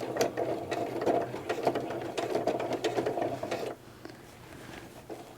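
A sewing machine stitches a centered zipper in steady, rapid mechanical runs for several seconds, then stops abruptly, leaving a quieter hum and faint clicks.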